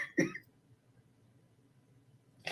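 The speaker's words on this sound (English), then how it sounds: "Oh, hold on, I got a cough." A single short cough sounds close by and is followed by quiet room tone, then a faint voice right at the end.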